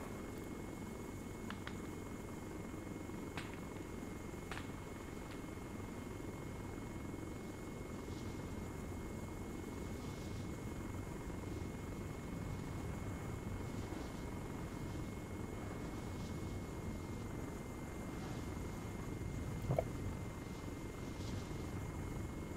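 A military helicopter lifts off in a combat video game, its rotor and engine drone a steady, fairly distant hum that holds evenly for the whole stretch, with a few faint clicks and no talk.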